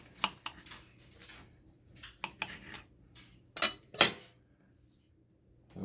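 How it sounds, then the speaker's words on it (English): A knife works through a home-cooked medium steak on a plate, giving a few quiet scrapes and sharp clinks of metal on dishware, with the loudest taps near the end amid a hushed indoor room. "So let me just cut a slice out here."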